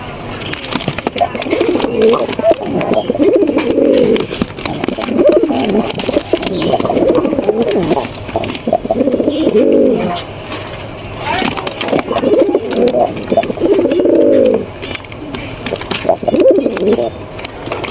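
A pair of pigeons coo near at hand in repeated rolling bursts with short pauses between them, loud and clear over faint background traffic.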